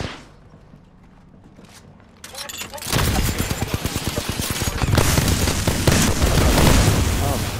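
Gunfire in Apex Legends during a duos match erupts after quiet footsteps: sustained automatic bursts and heavy booms, loud and dense, continuing to the end.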